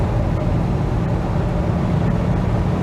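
From inside a moving 1975 Mitsubishi Colt 1400 Delica minibus, the 1400 engine gives a constant deep hum mixed with road roar, loud and unbroken, with no voices.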